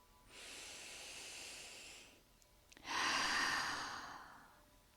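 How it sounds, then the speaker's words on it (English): A slow, deep inhaled breath, soft and close, followed after a short pause by a longer, louder airy exhale, calm and unhurried. "take a deep breath in"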